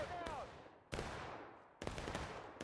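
Artillery fire in the Civil War video game War of Rights, three sharp distant booms spaced roughly a second apart, each decaying quickly into rumbling echo.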